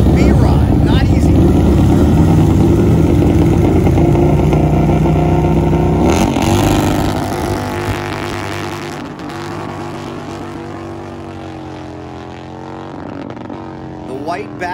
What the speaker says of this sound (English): That bike didn't sound healthy at all.